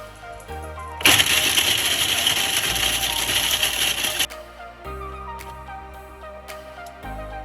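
A food processor whirs loudly for about three seconds while grinding dried lemon rind into powder, starting abruptly and stopping sharply, surrounded by quieter kitchen handling sounds.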